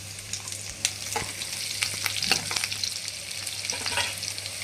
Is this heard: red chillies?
yes